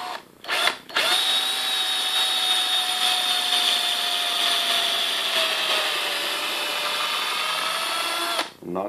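A power drill boring a screw hole in leather-crafting tool scraps whines steadily for several seconds after a brief start-stop burst, holding a high sustained tone close by before winding down.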